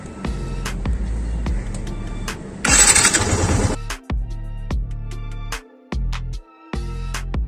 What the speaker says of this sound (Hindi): तो करते हैं स्टार्ट अपने बाइक को।